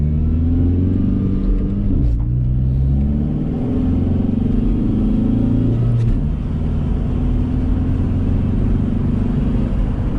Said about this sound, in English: first gear up this hill, and then into second, and then blast away